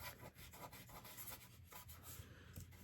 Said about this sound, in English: there's just a little bit of that dotty tape, and you can just usually just rub it right off